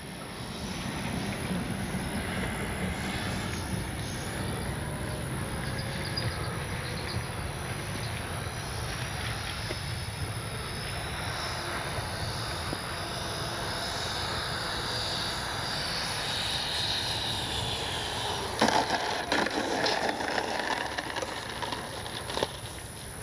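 A 64mm ducted-fan RC MiG-29 jet model whines continuously as it turns and flies in to land, its gear and flaps lowered. The high hiss stays steady and moderately loud throughout, with a brief rise near the end.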